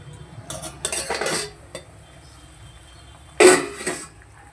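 Used pots, dishes and cutlery are scrubbed and handled in a home kitchen, with scraping strokes and sharp metallic clatters coming in short bursts between quieter pauses.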